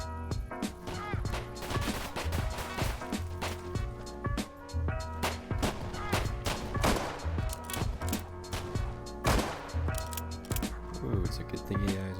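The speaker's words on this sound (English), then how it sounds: "all of a sudden they open fire on us" Gunfire from AI enemies in the video game Deadside: dense, repeated sharp shots and bursts crackling throughout over a continuous game soundscape, loud and close.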